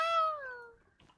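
In the survival video game Forever Stranded, a cat that is burning lets out a single drawn-out meow, clear and close, falling in pitch and fading out with faint noise after it.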